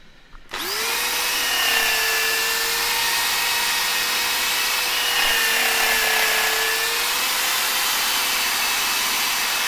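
A power sanding disc, brand new, whirs steadily against a green-turned casuarina wood bowl on a lathe, a sustained high grinding hum starting abruptly and holding loud and even throughout.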